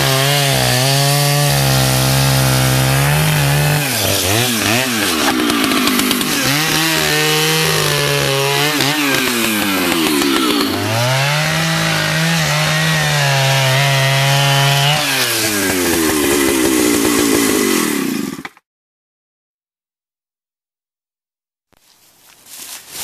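A chainsaw roars continuously as it cuts through a 3,000-pound myrtlewood root ball, the engine pitch dipping and rising under load, then abruptly stops into silence.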